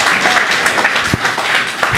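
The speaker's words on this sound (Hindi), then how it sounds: "एक बार जोरदार तालियां बजाएं यदि आप सहमत हो तो।" Loud, dense applause from a large audience at a Hindi-language speech, a steady wash of many hands clapping throughout with no talk over it.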